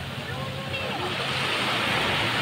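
Ocean waves wash and break steadily on a beach at Puerto Galera, a broad continuous roar of surf with some wind, and people can be heard talking faintly over it.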